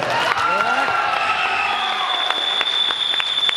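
An audience at an interview event for a Bhojpuri film breaks into loud, sustained applause with some cheering and crowd noise. A thin high whistle-like tone runs through the clapping.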